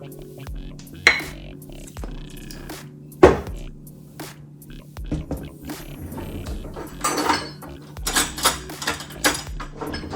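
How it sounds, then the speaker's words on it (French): A salmon salad with fish sauce being mixed in a bowl: irregular clinks, scrapes and knocks of utensils against the dish, close by, with a steady low hum underneath and busier clattering toward the end. "On va mélanger."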